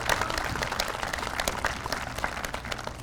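A crowd claps for a band at an outdoor Veterans Day ceremony in Indianapolis, a continuous patter of many hands at moderate volume with no voices over it.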